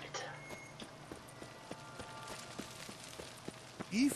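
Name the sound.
horse galloping in video game The Witcher 3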